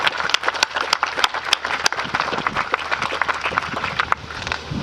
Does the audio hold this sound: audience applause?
yes